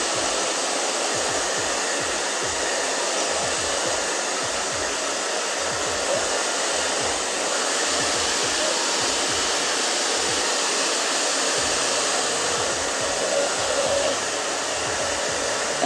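A blow dryer runs steadily and loudly throughout with a constant whooshing roar and no pauses.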